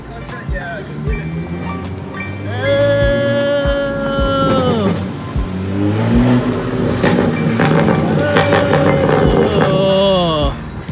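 A BMW's engine revs hard at a car meet, rising and falling in loud drawn-out sweeps across the scene, with excited voices talking and cheering over it.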